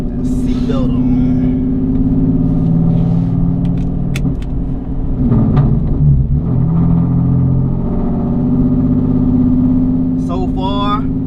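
Steady cabin drone of a Genesis car with new polyurethane rear differential bushings driving out of a neighborhood, engine rising a little partway through and a short squeaky rattle at the end.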